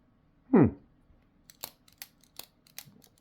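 Demko AD20.5 folding knife fitted with titanium scales and backspacer, its action snapping through a handful of sharp, close clicks, after a short faint vocal sound at the start.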